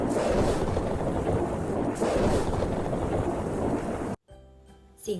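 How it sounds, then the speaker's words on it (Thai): A thunderstorm with a lightning strike, a loud sustained rumble and roar of thunder that fills the scene before cutting off abruptly into quiet. "เสียงฟ้าผ่า"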